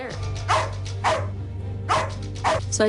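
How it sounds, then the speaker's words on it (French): Dogs bark in sharp bursts, four or five barks spaced about half a second apart, fairly close, over a steady low hum. "J'ai constaté qu'ils se mettaient à aboyer pour rien."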